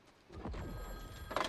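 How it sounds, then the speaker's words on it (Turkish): Telephone ringing in the Fortnite video game, a faint electronic bell-like ring that swells briefly and then repeats, quiet and short with no talking over it. "Aa telefon çalıyor."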